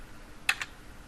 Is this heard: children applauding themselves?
no